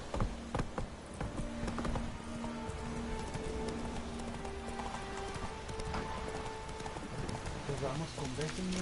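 A horse's hooves clip-clop steadily at a walk in The Witcher, close and rhythmic, layered over pattering rain and soft sustained music tones.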